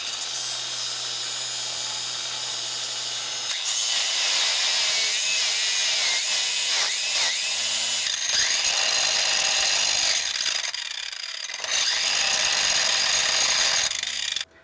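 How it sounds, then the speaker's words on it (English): Metal alternator bracket for a 1980-1996 Ford Bronco or F150 being cut with a cutoff wheel and then ground smooth with a grinder: loud, continuous high-pitched whine and rasp with short dips and restarts, close up, no talking. "I used a cutoff wheel and then a grinder to smooth out the edges."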